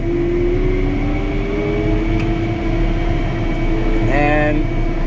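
A tractor engine runs steadily while cutting hay, a loud continuous drone with low rumble and a sustained tonal hum. The pitch shifts upward briefly near the end as the throttle comes up.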